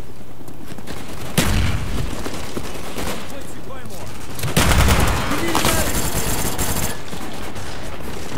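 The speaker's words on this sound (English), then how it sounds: "Friendly Cobra inbound." Heavy gunfire from a friendly Cobra attack helicopter in Call of Duty multiplayer, loud sustained bursts of automatic fire with booming surges, the strongest around the middle, continuous through the scene.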